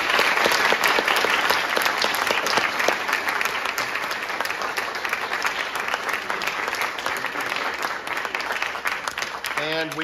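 An audience at a spring student stage production applauds the show's technicians, a loud, dense wash of clapping starting strongly and continuing steadily for about ten seconds, with voices cheering faintly beneath.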